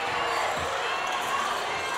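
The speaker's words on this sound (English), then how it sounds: "And the crowd is chanting, fire it up." Basketball crowd at a middle school boys championship game, a steady dense roar of voices and chanting that fills the whole span, with faint bounces and scattered shouts underneath.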